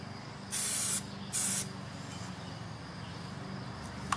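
An aerosol can sprays a first coat of primer onto a car panel in two short hissing bursts, close and even, with quiet room noise between them.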